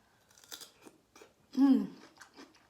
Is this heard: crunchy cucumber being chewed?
yes